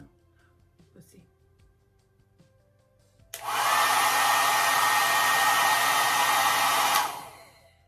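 After a few seconds of faint handling noise, a hair dryer switches on and blows with a loud, steady whoosh for about four seconds, then shuts off and winds down.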